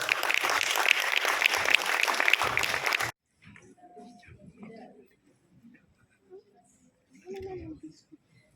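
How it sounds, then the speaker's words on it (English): Applause from an audience at a university law moot competition, a loud burst of clapping that stops abruptly after about three seconds, followed by scattered quiet talk. "Give it another big round of applause."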